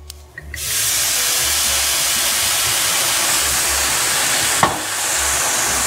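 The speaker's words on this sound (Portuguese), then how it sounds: "Agora a gente vai deixar uns 3 minutinhos evaporando o vinho." White wine hits a hot pan of risotto rice and erupts into a loud, steady sizzle and steamy hiss that holds for several seconds, with a brief clink partway through.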